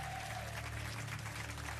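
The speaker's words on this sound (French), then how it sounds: "Et applaudissements pour Stéphane," Studio audience applauding on a French TV quiz show, a dense, continuous wash of clapping held steady at full level through the whole short stretch, with no talking.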